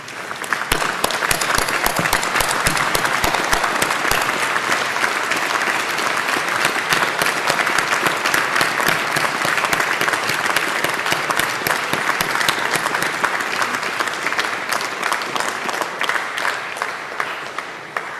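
Graduates at a university graduation ceremony turning to applaud their families and friends, a long, dense, even roar of many hands clapping that holds steady throughout and tapers slightly at the end.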